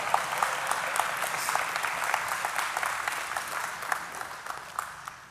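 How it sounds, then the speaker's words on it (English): Congregation clapping during a church service, steady crowded hand claps with sharp individual claps standing out, continuous and fairly close. "I was waiting on you to clap"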